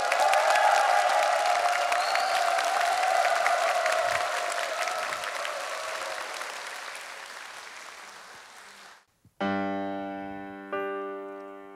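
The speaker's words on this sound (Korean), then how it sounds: "큰 박수가 필요합니다." A concert audience gives loud, sustained applause and some cheering as a gugak pianist is welcomed to the stage. The clapping gradually fades and cuts off, then piano notes ring out alone.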